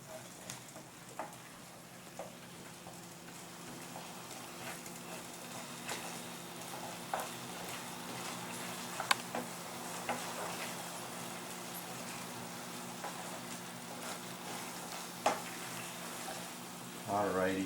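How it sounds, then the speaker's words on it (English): A brown rice mixture simmers on low heat in a pan, a faint, steady sizzle and bubbling dotted with small pops and clicks, ending with a brief stir. "Alrighty, so we'll let that simmer on low now."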